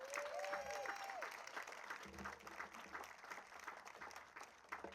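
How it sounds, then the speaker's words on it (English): An outdoor crowd at a domestic violence awareness walk applauds in a steady, fairly faint wash of clapping that lasts the whole stretch, with brief high tones near the start. "Give them all a round of applause."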